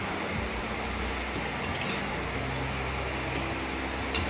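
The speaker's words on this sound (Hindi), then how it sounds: "अब इसको हम डबल फ्राई कर रहे हैं।" Potatoes being double-fried in hot oil until crisp and golden for honey chilli potato, a steady, even bubbling hiss that runs the whole time, with a faint utensil clink near the end.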